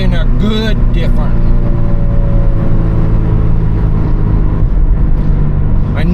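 A Toyota GR86/BRZ engine fitted with an ANSIX snorkel runs up close with a steady low rumble and a few throttle blips near the start, while voices talk over it.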